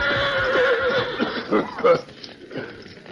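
Horse whinnying in a cartoon scene, a shrill neigh followed by snorting, chuckling bursts, with voices briefly heard alongside.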